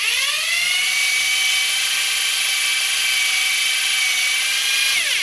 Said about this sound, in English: you put your drill in reverse, you begin